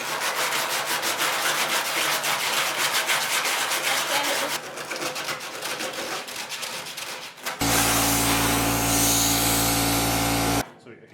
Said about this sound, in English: we're going to sand it just a little bit, mainly because there's still that surface rust on the inside